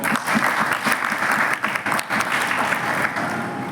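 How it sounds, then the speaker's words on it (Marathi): A school-programme audience breaks into loud, dense applause that holds steady for several seconds, many hands clapping close together with no voices heard. "म्हणून त्यांच्यासाठी एकदा टाळ्या वाजवा"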